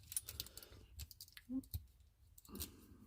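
Plastic parts of a Transformers Beast Machines Savage Noble figure being folded into place, giving a few close, quiet clicks and light rattles in irregular bursts.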